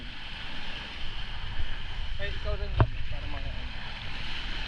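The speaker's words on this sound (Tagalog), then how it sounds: "Medyo maalon na eh. Malakas ang alon ngayon." A boat rides through rough, choppy sea near El Nido, with a continuous wash of waves and wind noise. Voices talk faintly beneath the roar.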